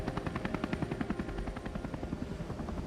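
Helicopter hovering over water during astronaut splashdown recovery training, a loud steady rotor thump pulsing rapidly and evenly with turbine whine throughout.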